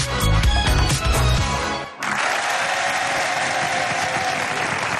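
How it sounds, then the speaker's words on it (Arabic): A studio audience at a televised stand-up comedy show bursts into applause, a steady loud wash of clapping from a full crowd that follows a short stretch of music. "نحييهم تحت صفقة الجمهور الحاضر معنا"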